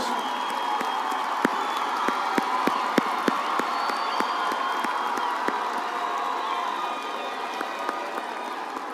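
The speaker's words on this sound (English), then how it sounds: "Give them a round of applause" A high school commencement crowd applauds and cheers, steady loud clapping with scattered sharp claps and whoops running throughout.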